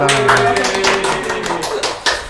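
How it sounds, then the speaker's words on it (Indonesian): A small audience claps during a talk about SCM in Pacitan, a dense run of sharp close hand claps with a faint tone underneath, lasting about two seconds. "Tepuk tangan dulu dong"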